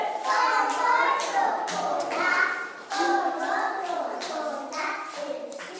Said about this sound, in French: Applaudissez pour Mogisha.